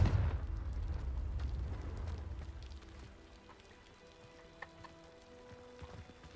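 Confringo explosive spell cast in Hogwarts Legacy, a loud rumbling blast at the start that crackles and fades over a few seconds into quiet ambience, with a small sharp click late on.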